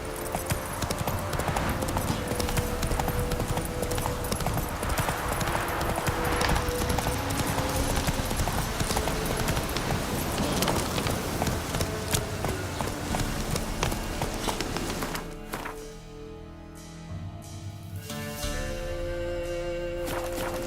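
Roach the horse gallops in The Witcher 3 game, rapid rhythmic hoofbeats pounding steadily and loudly under sweeping game music, then easing toward the end as the scene quiets.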